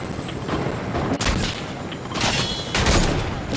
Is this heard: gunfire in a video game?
yes